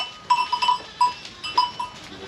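White Saanen dairy goats in a village pen, bleating in a run of short, high calls. Several bursts come close together, then a few spaced ones, with quiet gaps between.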